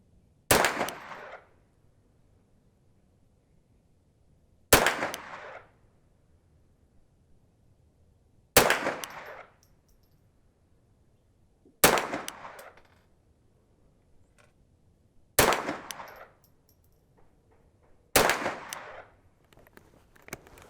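Six sharp rifle shots from a Brownells 10/22 Takedown at a shooting range ring out one at a time, spaced several seconds apart, each a loud crack followed by a short decaying echo.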